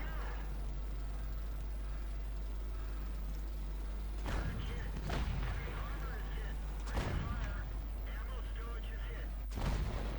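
Tank cannon blasts in a World of Tanks battle, with an FV201 (A45) destroying the ammo rack: three sharp loud booms with decaying rumble over a steady low engine drone.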